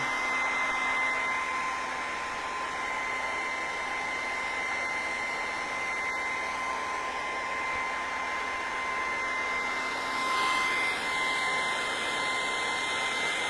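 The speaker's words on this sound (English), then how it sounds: "We'll dry it with the hairdryer, see how we go." A hair dryer blows steadily at close range, a constant airy whoosh with a faint whine that shifts slightly near the end.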